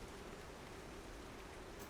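Heavy rain in a video game, a steady dense hiss with no break for two seconds and no voices.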